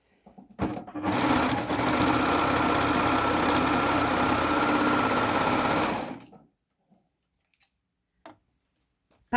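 Sewing machine stitching the crotch seam of shorts, a fast, even mechanical whirr of rapid needle strokes running steadily for about five seconds before stopping, followed by a few faint clicks and handling sounds.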